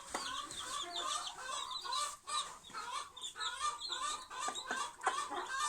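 A hen clucks softly and continuously among her nine newly hatched chicks, whose high peeping chirps overlap throughout, close and steady with no talk.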